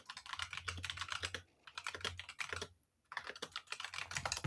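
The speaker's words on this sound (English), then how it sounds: "you like that typing back there" Rapid clicking of someone typing on a computer keyboard in the background, in steady bursts with a brief pause, fairly faint and without speech.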